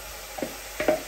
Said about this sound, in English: Now I add meat. I add my meat.